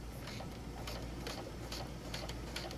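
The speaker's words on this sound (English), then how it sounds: "we're just going to sew all the way down" A sewing machine stitches down the length of an invisible zipper, giving a steady mechanical hum with faint rhythmic ticking that runs evenly and close throughout.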